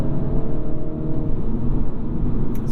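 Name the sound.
2022 Mini Cooper S engine revving on downshift to third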